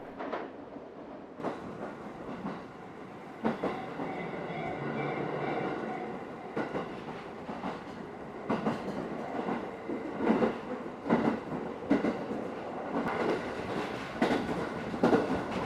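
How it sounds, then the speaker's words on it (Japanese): A train on the Oito Line rumbles steadily along the rails near Matsumoto, crossing the Azusa River, with repeated clicking and clacking of wheels over joints, a continuous moderate roar heard from inside. "列車はあずさ川を渡ります"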